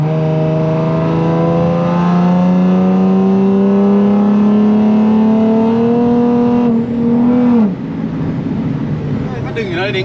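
A modified Nissan 370Z with an automatic gearbox accelerating hard, the engine note climbing steadily for about seven seconds before a sharp drop as it shifts, loud and heard from inside the car.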